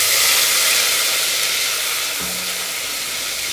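Paste sizzling as it fries in a pan for Arabian chicken kabsa, a steady loud hiss throughout that eases slightly partway, with a faint low hum entering near the end.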